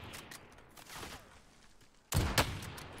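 A burst of loud video game gunfire erupts near the end, sharp and close, after a stretch of quieter game sounds.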